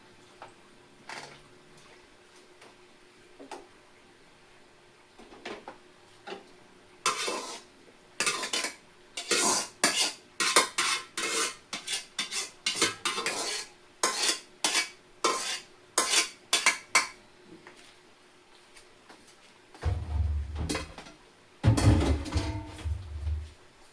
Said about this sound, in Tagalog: nagluluto ng spaghetti